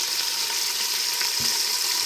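Chunks of beef browning in a hot pan for stew, giving off a steady, bright sizzle that holds evenly throughout, with a faint soft clink partway through and no voices.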